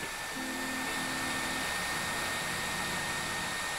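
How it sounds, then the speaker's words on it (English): A hair dryer blows steadily on the edge of a vinyl skin being applied to a Samsung Galaxy A50/A30 phone, giving a constant, fairly loud broadband whoosh with a faint motor hum, alone without talk. "Get the hairdryer and blow it on one edge."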